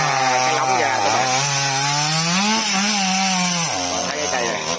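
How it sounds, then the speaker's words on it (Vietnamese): A chainsaw cuts through the large trunk of a big fig tree outdoors, its engine loud and close, pitch sagging under load and rising again as the chain bites through the wood. "Bây giờ anh xuống anh cưa mấy cái lóng ra các bạn."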